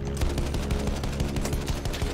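Sustained rapid gunfire from a player's weapon in a video game battle with attack planes and ground support, a steady close rattle of evenly spaced shots with no voices over it.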